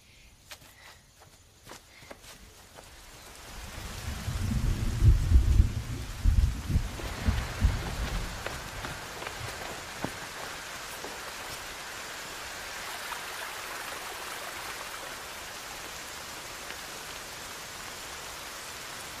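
Outdoor rain falls steadily as a soft, even hiss. A few heavier rumbling, pattering thuds build near the start, then the rain settles into a constant downpour.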